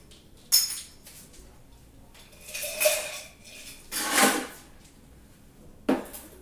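Bursts of rattling clatter as an iced drink is shaken in a plastic glass, a short knock then three longer shakes of ice against plastic, separated by quiet gaps.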